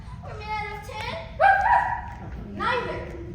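Toto, a small dog, lets out three short high yipping barks with whimpering tones, close and clear against a quiet background.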